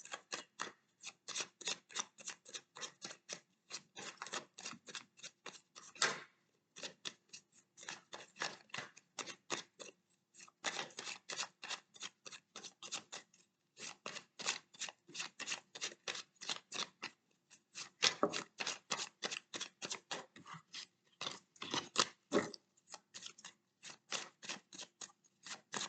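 Tarot cards are shuffled before a card draw, quiet rapid papery flicks coming in repeated bursts with short pauses between.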